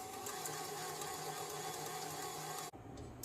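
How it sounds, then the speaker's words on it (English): A stand mixer beats two eggs with sugar, giving a steady, close whirring motor hum with an even buzz that holds without a break and then cuts off abruptly just before the end. "I'm going to use my stand-up mixer."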